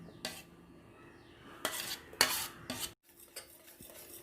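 Spoon stirring ground semolina batter in a bowl for an eggless tutti frutti cake, a few sharp scraping clinks against the bowl between quieter rubbing, close and alone.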